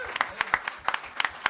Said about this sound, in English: So great hand of applause